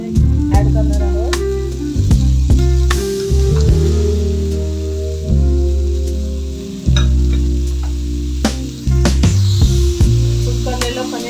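Crumbled paneer sizzles and fries with golden-brown onions in a pan for paneer bhurji, a steady close hiss with stirring scrapes running throughout, alone without talk.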